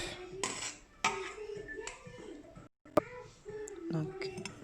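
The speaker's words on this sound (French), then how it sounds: "Je vais mettre 3 cuillères dans mon bol." Spoonfuls of powder scooped from a container and tipped into a bowl, giving a few close metallic clinks and taps of the spoon against the bowl, with someone speaking French in between.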